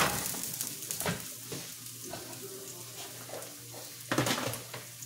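Diced onion sizzles and fries in a pan for chicken fried rice, a soft continuous crackle broken by a few louder stirring scrapes and pan clatters, close and fairly quiet, with no talking.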